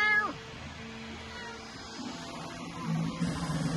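A cat meows a few times close to the microphone near a Bambu Lab P1S 3D printer, short pitched calls opening the clip followed by quieter low vocal sounds and a faint hum.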